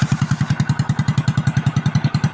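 Honda motorcycle engine with a broken exhaust pipe idles with a loud, rapid, popping rhythm, the raw chugging of an unmuffled exhaust, close and steady.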